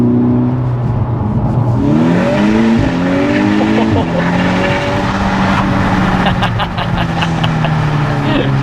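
A tuned Stage 2+ MK6 Volkswagen Golf R, 367hp, with an APR exhaust system, its engine droning and rising through revs close by, loud and continuous, with voices partly audible over it.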